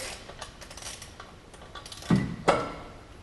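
A torque wrench tightens secondary clutch bolts on a 2016-18 Can-Am Defender 800/1000 with a soft ratcheting rattle, then two sharp metallic clicks close together near the end.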